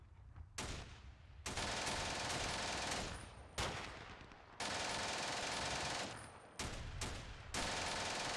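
Gunfire in the World War II wargame Steel Panthers, a series of rapid machine-gun bursts, each lasting about a second or more and separated by brief gaps, loud and close with no talking.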